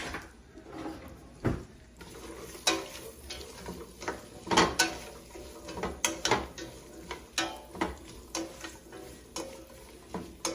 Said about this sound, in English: So I'm going to give that a quick stir.